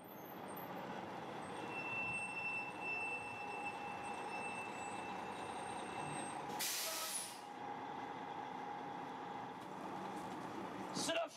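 A bus's air brakes release a sharp, loud hiss partway through, standing out against a steady engine drone and road noise inside the vehicle.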